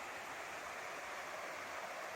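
Big Fir Creek near the Umpqua River on the North Umpqua Trail, a steady, even rush of flowing water, close and constant with no voices.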